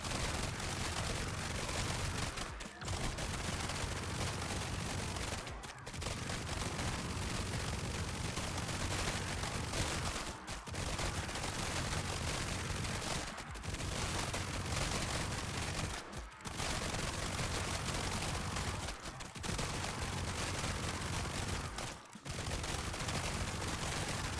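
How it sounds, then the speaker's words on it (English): Continuous dense gunfire in a roguelike video game as killed enemies burst into bullets, a loud unbroken rattle of shots with brief gaps every few seconds. "Enemies killed by your weapon explode into 3 bullets"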